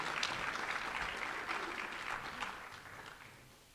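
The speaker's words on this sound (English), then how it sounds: "How about one more round of applause for Vanessa LeBate?" Audience applause at a hall of fame induction ceremony, a steady wash of many hands clapping from the start that gradually thins and fades toward the end, with no voices over it.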